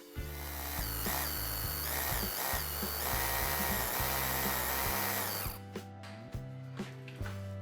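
A power drill whines loudly and continuously, its pitch wavering as it bites into a wall, then cuts off, leaving faint scraping and clicks.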